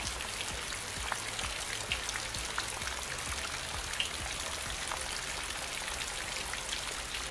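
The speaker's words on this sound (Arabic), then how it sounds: "اللي انا ضفته طبعا هو صوت المطر" Steady rain sound effect added to a rainfall animation in Adobe Animate, a dense continuous patter of drops and hiss with occasional sharper droplet ticks, even and moderately loud throughout, no voices.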